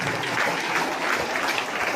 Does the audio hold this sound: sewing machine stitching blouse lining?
no